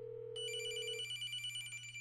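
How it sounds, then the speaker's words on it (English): A desk telephone for incoming calls rings with a bright electronic bell trill that starts partway in and holds steady over a low constant hum, fairly faint and with no voices. "there's my bat phone ringing"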